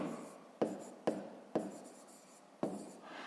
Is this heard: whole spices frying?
no